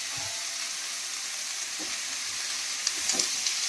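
Snake gourd frying in a pan, a steady soft sizzle with occasional faint stirring scrapes, heard close and alone.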